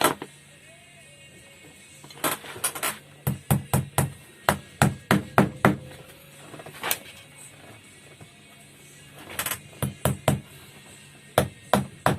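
A hammer drives small nails into the heel of a men's shoe while rubber heel tips are fitted, landing as sharp, fairly close taps in quick bursts of several strikes separated by short pauses, with faint background hum.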